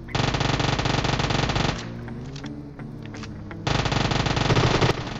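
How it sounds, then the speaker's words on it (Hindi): Two long bursts of rapid automatic gunfire in PUBG Mobile, loud and close, broken by a short pause filled with jeep engine hum and clatter. "यहां पर मकबूल की बंदूक लेकर मैं उस पर गोली चलाने लगता हूं ब्रो"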